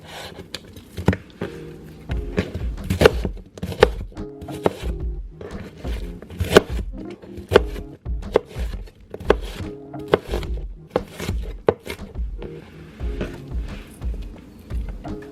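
Knife chopping nopales cactus paddles on a cutting board, a rapid series of sharp thunking cuts with an uneven rhythm, close and fairly loud throughout.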